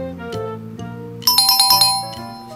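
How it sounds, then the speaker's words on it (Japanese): Anpanman toy sounding its correct-answer ding-dong chime: a few soft tones, then a bright, loud run of rapid bell-like pings that rings out alone for about a second. "正解、ピンポンピンポン。"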